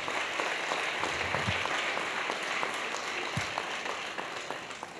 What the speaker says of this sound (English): A round of applause for Professor PLO Lumumba, ladies and gentlemen.